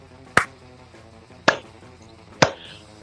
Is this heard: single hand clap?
yes